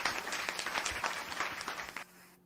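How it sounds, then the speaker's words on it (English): An audience applauds a special guest, activist Travis Washington, a dense patter of many hands clapping at moderate volume before cutting off abruptly into near silence. "let's give him a round of applause"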